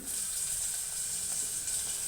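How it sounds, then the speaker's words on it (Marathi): Chopped onion hitting hot tempering oil with garlic, cumin, curry leaves and asafoetida, giving a steady loud hiss and crackle that lasts the whole short stretch with no talk. "आता कांदा घालते मी"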